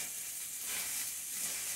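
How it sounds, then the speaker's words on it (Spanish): Ground meat and chopped onion browning in a hot pan, a steady bright sizzle that holds evenly close up with no talk. "Ya empezó a dorar la carne"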